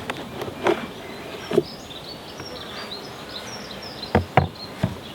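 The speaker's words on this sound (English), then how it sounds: "Well, we've got bees covering about 3 frames." Honey bees buzzing inside a nucleus hive during an inspection, a low steady hum with a few louder individual bees flying close past, no speech.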